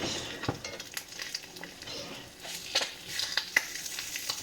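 Eggs sizzle steadily in a cast iron pan with a generous amount of butter while a spatula scrapes and taps near the metal, with a few sharp clicks during the flip to over easy.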